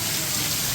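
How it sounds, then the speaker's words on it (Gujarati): Heavy monsoon rain pouring down in a village during sowing season, a brief, dense and even wash of downpour noise, loud and close with no clear voices. "ધડબડાટી વરસાદ શરૂ છે"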